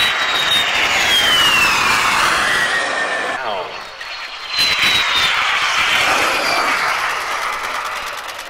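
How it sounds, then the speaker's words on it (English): A P-51B Mustang warplane makes a loud, sustained flyby at the 2019 Abbotsford International Airshow, its engine roar rising and shifting pitch as it passes, dipping briefly, then swelling again. "the P-51B model of the Mustang being flown today by Carter Teeters."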